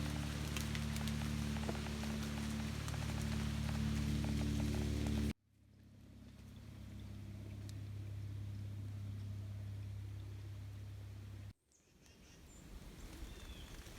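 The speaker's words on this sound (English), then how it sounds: "it's all the dew coming off the trees when the wind blows" Soft, scattered patter of dew dripping from trees in Wayne National Forest, Ohio, in fall, rain-like and quiet, swelling and fading with gusts of wind, with no voices.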